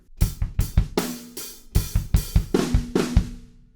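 Rock drum fill on a kit for a song, a run of sharp snare and tom hits ending in a flam kick, with cymbal crashes ringing out; close, loud and alone.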